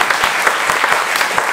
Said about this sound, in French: Voilà, on peut vraiment vous applaudir